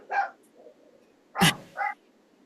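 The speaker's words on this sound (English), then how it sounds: "is that your dog we're hearing?" A dog barks heard over a remote connection during a county council meeting, three short yips separated by pauses with the middle one the loudest, set against a quiet background.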